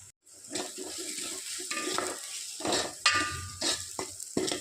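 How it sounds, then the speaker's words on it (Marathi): A spoon stirs spice masala sizzling in hot oil in a pan for a chicken curry, steady frying hiss under scraping and clinking of the spoon against the metal, close and moderately loud, no talking. "आणि त्याला छान तेलामध्ये मिक्स करून घेऊ।"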